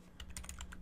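Fingers tap quickly on a computer keyboard while someone builds a website in HTML and CSS, giving a run of soft, close keystroke clicks over a faint steady hum.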